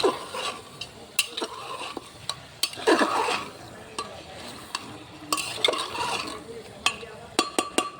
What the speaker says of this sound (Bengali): কষতে হবে মাংসটা।